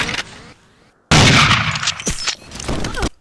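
Pen gun fired in the Nightfire shooter game: a faint shot, a short quiet pause, then a loud burst of firing and impact noise with a few sharp cracks near the end.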